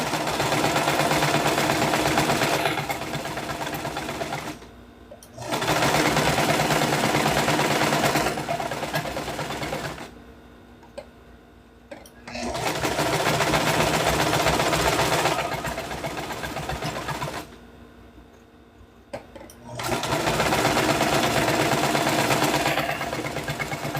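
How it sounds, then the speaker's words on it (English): A sewing machine in a salon runs in long bursts of steady, rapid mechanical stitching, with several short pauses in between. The sound is close and moderately loud, and nobody speaks. "There's gonna be like a lot of sewing machine ASMR"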